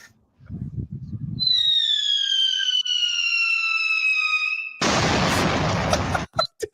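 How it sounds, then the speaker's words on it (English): A Class A firework shrieks upward with a loud, wavering whistle lasting a few seconds, then bursts into a broad, crackling roar that cuts off abruptly, preceded by a low rumble. "Talking about a Class A firework."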